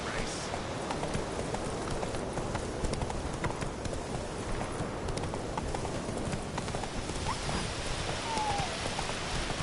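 Roach, Geralt's horse in The Witcher 3, gallops steadily with rapid, continuous hoofbeats under a rainy wash of background noise, with speech present over the running hooves.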